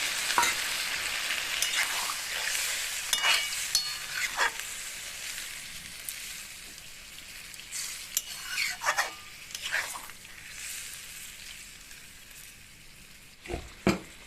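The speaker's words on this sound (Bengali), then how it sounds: "দিয়ে দেবো গরম করে রাখা জল পরিমাণ মতো জল আমি এতে দিয়ে দিলাম" Okra and potatoes frying in a pan are stirred after hot water is poured in, giving a steady sizzle broken by repeated scraping strokes and occasional clanks of the utensil against the pan.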